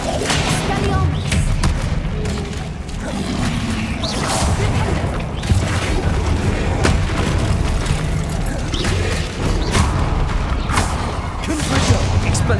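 Magical spell blasts boom and thud repeatedly during combat in Hogwarts Legacy, loud and continuous with crashing impacts, while a voice calls out spell names over them.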